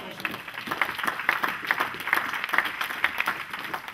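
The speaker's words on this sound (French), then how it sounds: "Ça mérite les acclamations quand même." Congregation applauding during a church sermon, a steady patter of clapping with some voices mixed in, moderately loud and continuous throughout.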